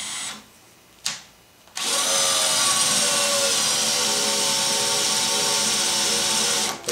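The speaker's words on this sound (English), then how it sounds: "I'll just let the drill press do it" After a few brief starts, a drill press spins up, marking metal with a drill bit, and runs as a loud, steady whine close by, stopping right at the end.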